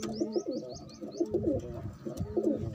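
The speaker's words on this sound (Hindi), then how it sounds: "ये मेरा देसी कबूतर है" Desi (Indian domestic) pigeons coo repeatedly in a steady rhythm, close and clear, with a few high chirps from other birds overhead.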